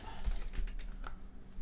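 Keys clatter on a computer keyboard in a quick, uneven burst of faint clicks close to the microphone, with a soft room hum underneath.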